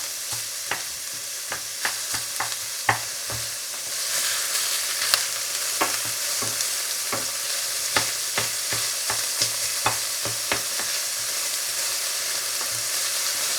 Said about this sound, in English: I'm just looking to make them translucent